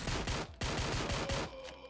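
Rapid bursts of gunfire from a SWAT team in the video game Door Kickers Action Squad crackle loud and close in quick succession, then cut off with a brief quieter tail, with no talking.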